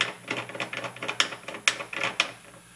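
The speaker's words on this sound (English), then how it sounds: "The first thing I want to do is I want to set my bullet depth. So we'll screw it in." A bullet seating die is screwed into a reloading press by hand, giving a quiet run of small metallic clicks and ratcheting scrapes in an uneven rhythm, close up with no talking.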